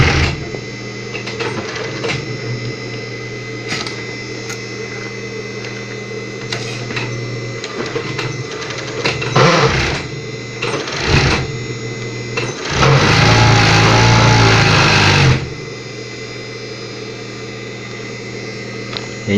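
A coverstitch (collaretera) sewing machine starts up and runs, a steady mechanical whirr with clicks and rattles, then a louder, denser stretch of fast stitching for a few seconds before easing back, close and alone.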